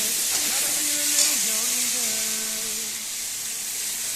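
A tomato and chilli masala, just salted, fries in a pan with a steady, close broadband hiss of sizzling, while a faint voice briefly murmurs underneath.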